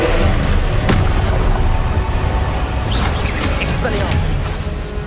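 A spell explosion in the video game Hogwarts Legacy sounds as a loud, dense boom and crash that fills the moment, followed by scattered crackling magical impacts and debris.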